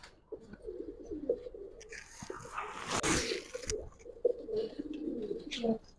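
A Giribaz pigeon coos close by in repeated soft, throaty calls, with a few brief breaks, while a person speaks lightly in the background.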